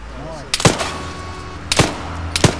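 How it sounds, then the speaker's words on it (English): Video game gunfire with three sharp shots spread over a few seconds, one isolated and two closer together, heard close over a low background hum. "They're shooting at me, yeah."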